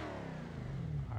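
A Dodge Hellcat engine in the BeamNG.drive driving game, a steady, droning mid-pitched rev holding close and loud through a short burst with no voices.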